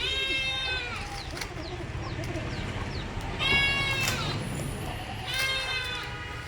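A goat bleats several times in wavering, drawn-out calls, with pauses between them, over a low constant hum of background noise.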